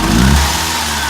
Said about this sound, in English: Now we're going to do a snap throttle test.